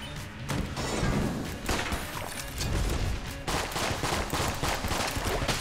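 Rapid bursts of gunfire from the video game Enter the Gungeon, dense and continuous shots crackling almost without pause for several seconds, loud and close.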